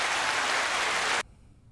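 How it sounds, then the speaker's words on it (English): Hand claps recorded on a podcast mic, a dense burst of clapping for just over a second, then an abrupt cut to quiet room tone. "Can you hear the hand claps?"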